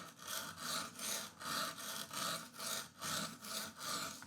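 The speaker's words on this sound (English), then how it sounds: "I'm gonna cut a bevel on either side with the 120 stone." A 120 grit stone grinds the bevel on a Bowie knife blade at about 23 degrees. It makes close, rhythmic rasping strokes, about eight even back-and-forth passes, and no one speaks.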